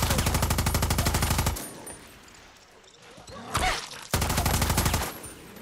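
Automatic gunfire in the video game Far Cry 6, with loud, rapid bursts of machine-gun shots that stop briefly for a quieter stretch of scattered thuds before a second long burst, with no talk.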